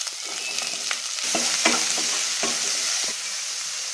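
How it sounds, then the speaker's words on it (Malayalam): Onions and shallots sauté in a pan for a prawn and green pea curry, giving a steady close sizzle with intermittent scraping stirs throughout. "ഇതിൻ്റെ കൂടെ സവാളയും ചെറിയ ഉള്ളിയും ചേർത്ത് 3-4 മിനിറ്റ് നന്നായിട്ട് വഴറ്റണം."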